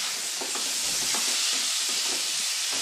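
Chicken mince with black pepper and spices sizzling steadily in a hot pan while being stirred, a continuous close hiss with faint scraping and no voices.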